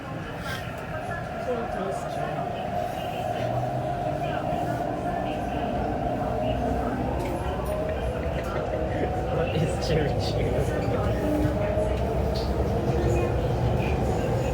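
An MTR Tuen Ma line C-Train in passenger service between Hin Keng and Kai Tak, heard from inside: a steady rumble and rolling hum that holds for the whole stretch, with some faint voices in the background.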